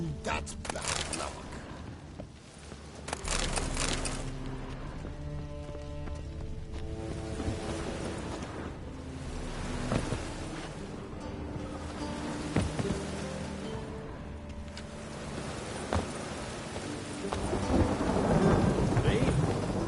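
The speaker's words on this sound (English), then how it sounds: "The storm, damn it." A thunderstorm with steady rain rolls on in The Witcher 3: Wild Hunt, a dense continuous wash of rainfall with deep thunder rumbles, loud and sustained throughout.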